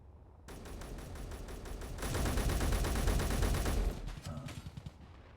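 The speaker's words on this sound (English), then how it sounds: "Another NPC shooting me from behind" NPC gunfire in Space Engineers, sustained rapid automatic shots that start abruptly, grow louder and denser midway, then break into a few scattered final shots before stopping.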